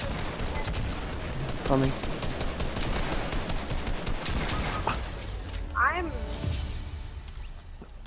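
Rapid in-game gunfire from Fortnite crackles through a busy battle mix, with repeated shots and bursts spread across the clip while a player speaks briefly over the action.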